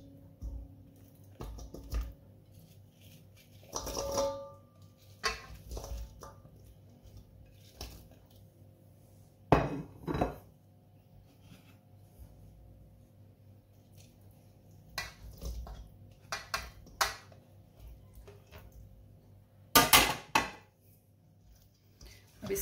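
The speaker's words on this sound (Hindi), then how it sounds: "अब इसको अच्छी तरह से मिक्स करूंगी।" Cut fruits are added to a bowl and mixed for a khatti meethi fruit chaat, with quiet scattered clinks of a spoon on the bowl and soft squishy tosses separated by pauses.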